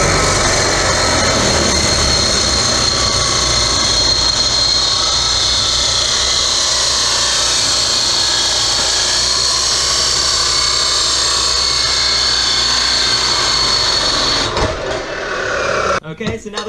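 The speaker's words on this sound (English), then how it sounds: "we have it in the cold cut saw" A cold cut saw slices through metal intercooler piping for a turbo Miata, a loud, steady grinding whine that runs unbroken for about fifteen seconds before winding down and stopping.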